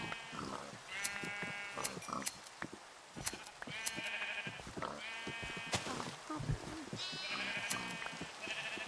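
Sheep bleating in Minecraft while being sheared, several wavering bleats from more than one animal mixed with game clicks and shearing effects, fairly quiet.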